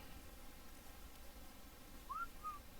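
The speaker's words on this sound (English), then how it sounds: "I whistled." Someone whistles two short, faint rising-and-falling notes near the end of the stretch, heard over a low steady background hiss with no talking.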